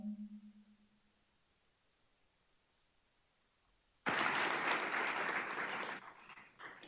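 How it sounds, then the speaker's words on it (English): Applause from an audience at a Techstars demo day in Fort Worth starts suddenly after a near-silent pause with a fading tone. The clapping is dense, sustained and moderately loud for about two seconds, then tapers off. "please join me in a round of applause and welcoming EDI to the stage"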